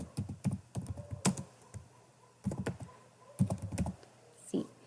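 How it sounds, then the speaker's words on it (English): Keys on a computer keyboard are typed in quick, soft bursts of clicks separated by short pauses, close and fairly quiet with no talk. "this is how you can type the text"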